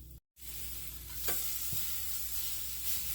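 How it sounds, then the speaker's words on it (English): Pork browning in a pot with steady broadband sizzling and frying, plus a couple of brief stirring scrapes over a low background hum. "so now we're gonna brown the pork"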